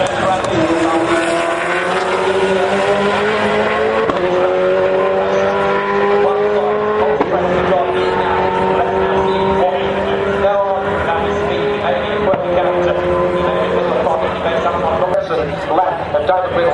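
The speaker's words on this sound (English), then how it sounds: "Reynolds in the Stratco Racing Commodore. Here he comes then." A Stratco Racing Commodore V8 race car lapping the Bathurst circuit, its engine droning loudly with rising and falling revs through gear changes, under continuous excited race commentary.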